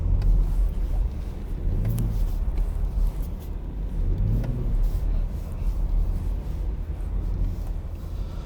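A 2020 BMW Z4 M40i sliding on a winter road, its engine rumbling steadily with two brief rising revs as the car drifts, heard from inside at moderate level with no talk.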